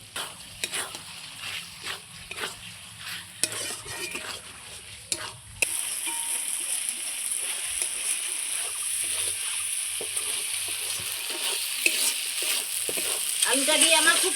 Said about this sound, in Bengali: এবার আমি ভেজে রাখা আলুটা দিয়ে দেবো, দিয়ে আবারও আমি একটু কষিয়ে নেব।